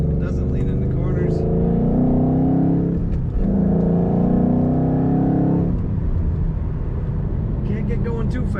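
Roush Stage 1 2011 Ford Mustang rumbles through its exhaust while driving, engine note rising and falling in two revving pulls, with someone talking over it.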